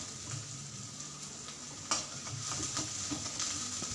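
Chopped onions frying in a pan for a Kerala-style goat brain dish, a soft continuous sizzle with several sharp spatula scrapes and taps against the pan, no talk.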